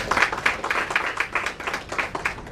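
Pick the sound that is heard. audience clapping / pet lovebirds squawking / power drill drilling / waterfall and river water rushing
audience clapping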